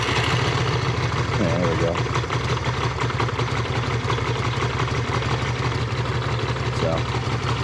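A Yamaha Virago 535 motorcycle engine idles steadily nearby, an even low throbbing beat that runs throughout, with a brief spoken remark over it.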